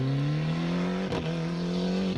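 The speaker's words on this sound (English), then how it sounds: "Liam McCarthy in the Keohane Concrete Escort Cosworth is very much on home territory" A Ford Escort Cosworth rally car drives a stage at the 1995 Cork 20 International Rally, its engine holding a steady, slowly rising note at a distance, broken by a brief gear-change dip midway.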